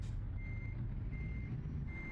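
A heavy truck backs up in a truck-driving video game, sounding three evenly spaced electronic reversing beeps over a low idling engine drone, with no talking.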